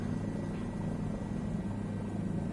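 A helicopter engine drones and strains in Microsoft Flight Simulator 2024, a steady, loud rotor hum and buzz holding constant without a break.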